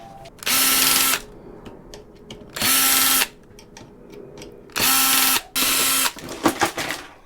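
A power drill backs screws out of scrapped laboratory equipment in four loud whirring bursts of about half a second each. Clicks and metallic rattles fill the gaps, and a jumble of handling noise follows at the end.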